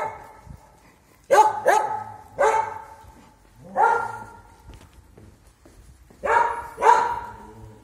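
A guard dog at a spa resort in Truskavets barks in several loud, close bursts, some single and some paired, with short quiet gaps between them and no talking.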